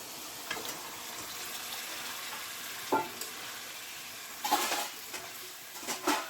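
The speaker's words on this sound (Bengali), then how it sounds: "মুরগি ভাজাগুলো দিয়ে আমি সুন্দর করে কষিয়ে নেব" Fried chicken pieces sautéing with roasted spice paste and a little water in a pan give a low continuous sizzle, with a few soft scraping stirs and light clanks of utensil against the pan spaced through it.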